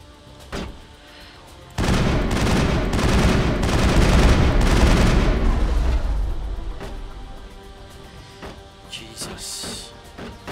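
Burst of heavy weapon fire in Mass Effect, a loud sustained blast of rapid shots lasting several seconds that then fades out, with quieter gaps and isolated hits around it.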